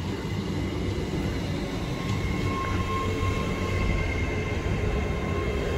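A train rolls steadily through Stafford station, a continuous rumbling drone with a faint high tonal whine, close and loud and unbroken, with no voices.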